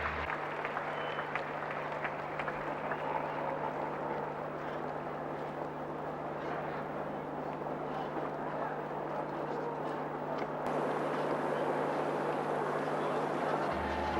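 Crowd roar as the Prince and Princess of Wales step ashore at an Australia Day event in 1986: a dense, sustained wash of cheering and voices that holds steady throughout, swelling slightly louder near the end, with a low steady hum beneath.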